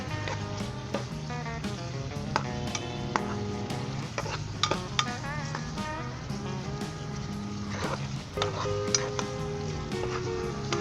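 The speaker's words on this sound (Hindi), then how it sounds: "और 10 सेकंड के लिए हम इसे फ्राई करेंगे।" Turmeric and spices, including red chilli, garam masala and salt, fry briefly in a pan for tomato chicken, giving a continuous sizzle mixed with tonal clatter and scattered ticks, heard without talk.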